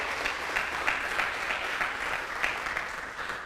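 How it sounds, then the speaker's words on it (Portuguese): A church congregation claps steadily through the whole stretch, a dense, even wash of applause with small swells and no break, moderately loud and without talk. "Pode aplaudir a Ele por isso."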